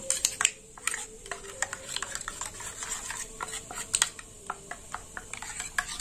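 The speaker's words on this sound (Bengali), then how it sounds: "ফোড়নটা একটু ভাজা হোক" Spice tempering frying in oil in a cooking pan gives irregular sharp pops and crackles over a soft steady sizzle, close up and moderately quiet, with no talking.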